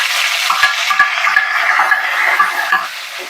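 Curry leaves and cut dried red chilies fry in hot oil in a pan, giving a steady, close sizzle broken by a few light stirring knocks and scrapes.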